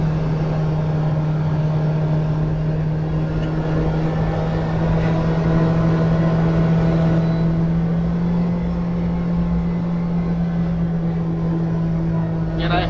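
A Kawasaki Ridge UTV cruising on a short ride through a residential subdivision, its engine giving a steady droning hum with a constant low tone throughout, heard from inside the cab.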